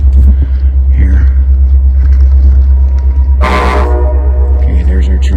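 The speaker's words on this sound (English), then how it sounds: "Okay, there's our train." A train horn sounds in a wooded valley at night, a loud sustained toot at mid-clip over a steady low rumble of rail traffic, with faint background noise and brief voices around it.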